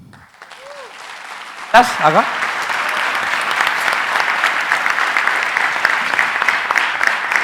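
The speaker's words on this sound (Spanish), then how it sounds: "Un aplauso fuerte para Cata." An audience at a live talk breaks into loud, sustained applause for a speaker named Cata, starting abruptly after a quiet moment and holding steady to the end, with a brief spoken word just before it begins.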